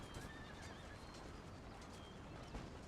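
Horses whinny faintly amid a dense, noisy video game battle din in Empire: Total War, with brief high neighing calls rising over constant rumbling clatter.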